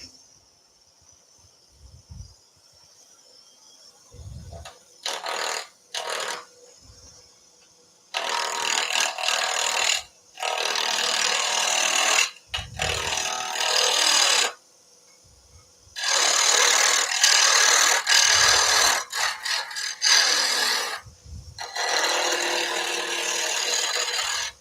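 A ball gouge cuts wood spinning on a lathe, making loud sustained scraping and hissing passes that stop and restart, with low thumps between cuts.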